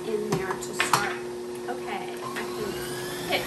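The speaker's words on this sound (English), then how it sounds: "So just drop down your herbs, get them all minced in there to start. Okay, I can hit high speed there." A KitchenAid 13-cup food processor mincing herbs at high speed, giving a steady motor whine with clattering bits against the bowl, close and fairly loud, with a voice briefly over it.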